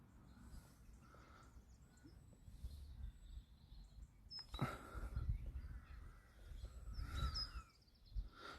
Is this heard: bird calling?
yes